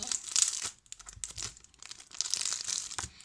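Brawl Stars trading card packs being torn open up close, with sharp crinkling foil and ripping bursts in two quick rounds separated by a short pause.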